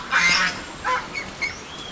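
Ducks and turkeys kept outdoors on a farm call out in a few short honking, quacking bursts, one long call followed by two briefer ones, fairly close and clear over a quiet background.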